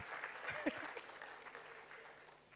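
Scattered clapping from a conference audience, moderately faint and fading out over a couple of seconds, with a voice briefly audible underneath.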